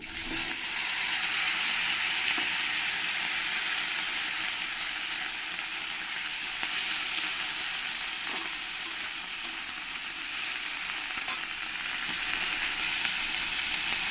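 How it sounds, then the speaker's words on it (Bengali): Sliced bitter gourd and brinjal frying in hot oil, giving a loud, steady hiss and sizzle that stays fairly even from start to finish. "এবার আমি যে উস্তে আর বেগুনগুলো কেটে রেখেছি আমি এই তেলের মধ্যে এগুলো দিয়ে ভেজে নেব"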